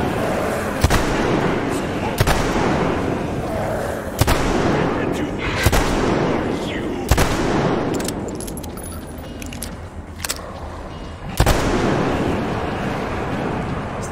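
Repeated sharp gunshot blasts in the video game Metro Exodus ring out at irregular intervals, each with a trailing echo, over a constant noisy background with a few scattered clicks.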